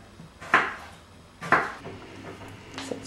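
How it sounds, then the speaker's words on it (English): Knife chopping a garlic clove and leek on a cutting board in a home kitchen, three distinct knocks spaced about a second apart, close and moderately loud with no talk. "Chop the garlic clove and the leek."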